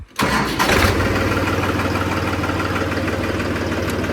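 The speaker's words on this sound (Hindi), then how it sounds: "ट्रैक्टर करो स्टार्ट।" An old-model New Holland tractor engine cranks and catches, then settles straight into a loud, steady diesel idle with an even low throb, close by and with no voices over it.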